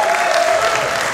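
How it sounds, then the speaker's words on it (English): Crowd at a saber fencing match cheering and applauding, a brief loud burst of clapping and raised voices filling the hall with no pause. "The crowd going crazy."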